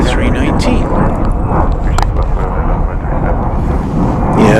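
An American Airlines Airbus A319 departs DFW airport, its engine roar a steady broadband rumble under continuous talk, with wind and distant airport noise.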